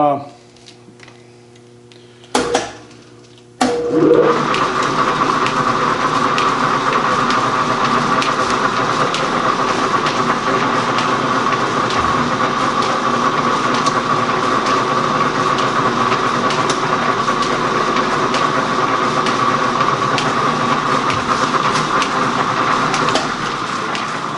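A Gould & Eberhardt 24-inch heavy duty metal shaper starts up after a brief pause and runs steadily under power, a continuous loud machine drone with faint rhythmic ticking from the feed mechanism.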